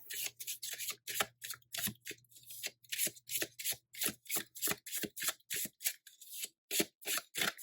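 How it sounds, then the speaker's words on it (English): Tarot cards shuffled by hand in a steady run of crisp riffling bursts, close and fairly loud, with a faint low hum beneath and no talking. "Give these a good shuffle."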